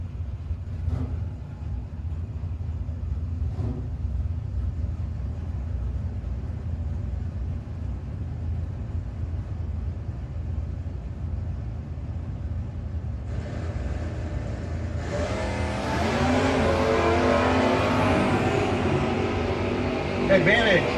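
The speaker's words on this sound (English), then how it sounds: "Couple of great looking hot rods down there on the starting line." Hot rods, including a 1975 Monza, sit at the starting line of a no-box drag race, then engines surge and roar as the cars launch down the strip. A loud rise in engine noise arrives late, with an announcer talking over the track ambience.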